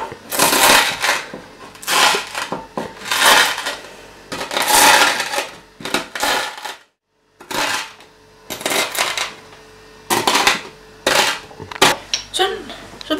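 Cornflakes are crushed up close in a series of loud, crackling crunch bursts separated by short pauses, with one longer silent gap midway.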